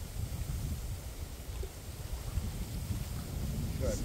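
Steady wind rumbles and buffets the microphone in low gusts outdoors near water while carp fishing, continuous and fairly strong throughout.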